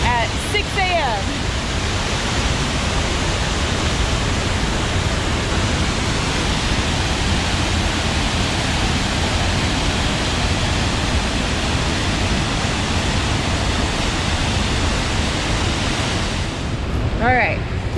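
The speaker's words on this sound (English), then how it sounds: "Ta-da! Falls Creek Falls." Falls Creek Falls waterfall roaring steadily and loudly up close, a dense constant rush of falling water that fills the whole scene, with a brief faint voice near the end.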